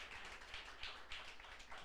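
A church congregation applauds during a worship service, a steady wash of many hands clapping at low, distant level with no voices over it.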